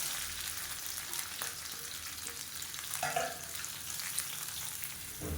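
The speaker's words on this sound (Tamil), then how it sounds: "இப்போ இது பொரிய ஆரம்பிக்கும் போது சும்மா ஒரு பத்து இலை புதினா சேர்த்துக்கலாம் இப்போ நீளமான இருக்குன்னா பெரிய வெங்காயம் சேர்த்துக்கணும்" Mint leaves and sliced big onions fry in hot oil in a pan, a steady dense sizzle with occasional stirring scrapes and pops throughout.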